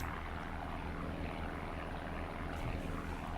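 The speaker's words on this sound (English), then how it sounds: "Can you hear the sound of this engine?" A continuous, loud aircraft propeller-engine drone in the video game World War II Online rumbles steadily throughout, like a piston aircraft at cruise, with no breaks or voices.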